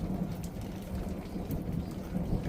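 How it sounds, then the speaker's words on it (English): Heavy monsoon rain pours in a steady, dense roar with a low rumble of thunder beneath it, constant and fairly close throughout, with no voices. "too much rain fell"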